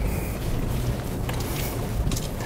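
A 2021 Lexus GX460 drives off-road through snow and icy hidden puddles, giving a loud, steady rumble with broad wind-like roar and a few sharper splashy bursts toward the end, with no speech.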